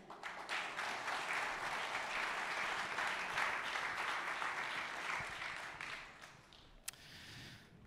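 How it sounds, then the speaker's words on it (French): Sustained applause from a crowd at a football club ceremony in Troyes, a dense continuous roar of clapping heard from a distance that gradually tapers off, with one sharp click near the end. "Je vous demande d'applaudir Philippe Coudreau"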